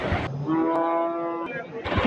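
Cattle at a weekly livestock market in Kadiri that sells cows, bulls, Jersey cows and buffaloes: one long, loud, steady moo stands out clearly over the busy background murmur of the market.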